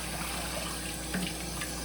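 Tap water runs steadily from a faucet in a continuous, close, even rushing stream, with no voices over it.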